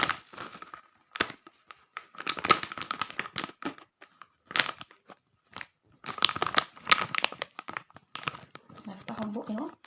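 Crinkly bags of chips torn and opened by hand, with repeated bursts of crackling plastic, rustles and crunches, close and loud in irregular clusters amid pauses.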